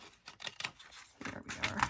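Paper edge being trimmed from a handmade Egypt-themed journal, a quick series of close, crisp scissor snips and soft paper rustles building toward the end, no voices.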